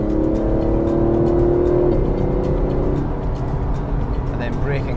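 An Aston Martin DB11 accelerates hard in Sport mode, its engine note climbing steadily and loud for about two seconds before a shift drops the pitch, with a voice talking over the roar.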